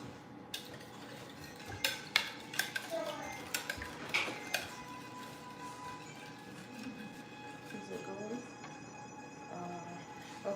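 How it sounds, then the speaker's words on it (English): A metal whisk beats crepe batter in a bowl, giving irregular bright clinks and scrapes against the rim that rise and fall at moderate loudness. "we're gonna whisk that up"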